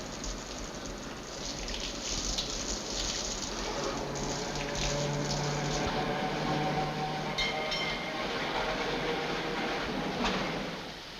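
The last tram of the night passes along a city street in 1951 Croatia, a continuous rumbling, rattling roll with faint squeals, steady and moderately loud throughout with no voices.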